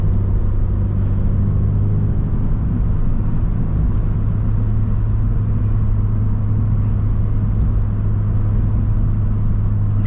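Steady, loud low rumble inside a Subaru BRZ cruising in traffic with the window cracked slightly, a continuous droning road and engine hum with a faint hiss of outside air throughout.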